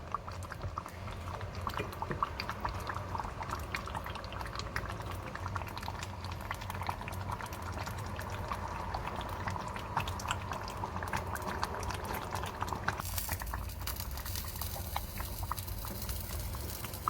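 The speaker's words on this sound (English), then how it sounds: "let me start boiling. Just 3 minutes of cooking it and it's done" Banga stew (ofe akwu, palm nut stew) bubbles steadily in a pot, a continuous close simmering crackle that carries on for a long stretch without talk.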